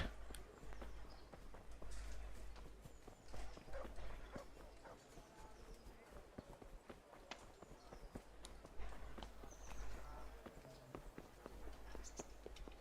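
Horse hooves clip-clop at a walking pace in the video game Kingdom Come: Deliverance, soft and somewhat distant, with faint ambient rustle and occasional small sounds in the background.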